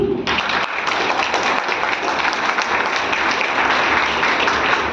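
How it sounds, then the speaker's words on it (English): A startup challenge audience gives a presenting team a loud, sustained round of applause, with dense clapping that starts abruptly and holds steady. "Now, have a huge round of applause, please."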